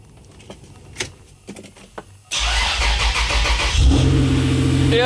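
A Toyota 5VZ V6 engine cranks and fires up after a timing belt replacement: a few faint clicks, then a loud starter churn that catches into a rising rev and settles toward a steady idle nearby.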